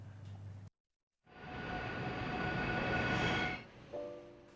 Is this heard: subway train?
yes